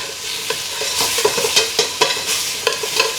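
Ingredients for squid adobo sizzle steadily in a hot pan, with a utensil stirring and scraping in a quick, irregular rhythm, close and fairly loud, and no voices.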